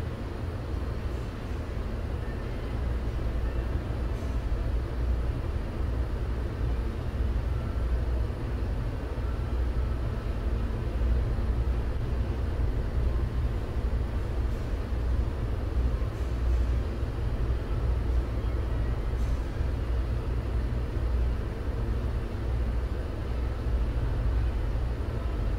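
An R160 subway train running, a steady low rumble and hiss of the car in motion for the whole stretch, even and continuous with no speech or announcements.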